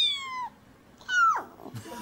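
Kitten meowing twice, close and clear, with a falling tonal meow, a pause, then a second meow; the second may be a boy imitating the cat.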